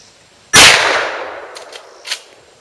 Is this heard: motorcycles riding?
no